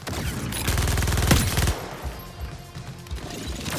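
Rapid automatic gunfire bursts in Suicide Squad: Kill the Justice League, loud and dense for nearly two seconds, then trailing into scattered impacts and combat noise without speech.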